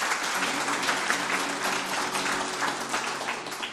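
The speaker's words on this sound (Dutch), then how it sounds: "En mag ik ook daar een applaus voor?" Steady, dense applause from an audience at the Leiden volunteer awards ceremony fills the hall without pause, even and sustained for nearly four seconds with no talking over it.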